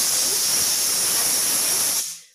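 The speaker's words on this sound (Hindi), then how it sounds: "अब मैं ये दो स्टीम और आने दूँगी" A pressure cooker steaming coconut for barfi gives a loud, steady hiss of escaping steam that cuts off abruptly near the end.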